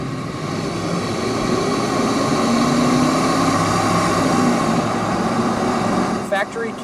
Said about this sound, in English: We'll roll into the throttle, test out the 5-liter.